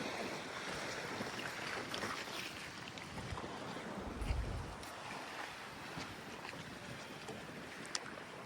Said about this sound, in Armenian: ալիքները խշան